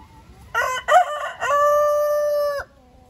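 Roosters crowing nearby on a farm with a turkey coop: a loud, close cock-a-doodle-doo with stuttering opening notes and a long sustained final call, alone without talk.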